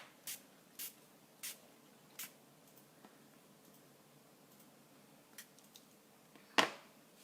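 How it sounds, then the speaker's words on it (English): A handheld water spritzer misting a craft project: four quick, soft spray bursts in a steady rhythm, then a pause with faint ticks, a couple of lighter puffs and one stronger, sharper burst near the end, all close by in a quiet room. "hopefully I've got enough water left in my spritzer"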